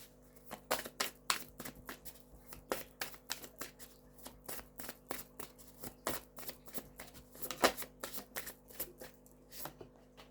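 Tarot cards are shuffled steadily for a reading, a close, quiet run of rapid papery riffles and soft slaps repeating in an uneven rhythm throughout.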